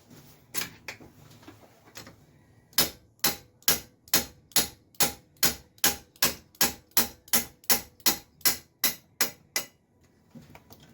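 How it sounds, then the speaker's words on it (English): Hammer blows knocking thermostat pipes loose on a Cadillac CTS 3.6L engine: a few scattered taps, then a rapid, regular run of about twenty sharp metallic strikes, close and loud. "Just a little friendly persuasion with a hammer."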